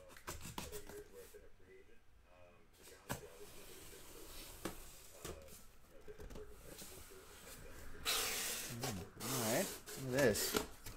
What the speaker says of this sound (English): Let's cut open the seal here.